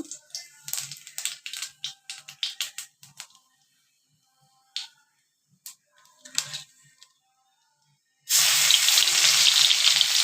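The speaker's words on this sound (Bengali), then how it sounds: "কড়াইতে দিয়ে দিলাম তেল, ফোড়নে দিয়ে দিচ্ছি কালো জিরা, শুকনো লঙ্কা" Black cumin and dried chilli hit hot oil in a pan with a run of quick crackles and pops. After a short quiet stretch, a loud, steady sizzle takes over, close and without any voices.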